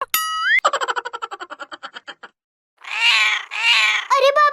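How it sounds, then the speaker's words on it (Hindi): Cartoon kittens meow in a quick string of short, high, wavering cries, followed by a pause and then two longer, louder yowls and a few rising mews, all close and with no one talking over them. "ये बिल्ली के बच्चे कहाँ से आ गए?"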